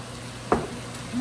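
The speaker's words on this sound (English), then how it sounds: "frying up the squash for me" Oil sizzles steadily as squash fries close by, with a brief clatter partway through.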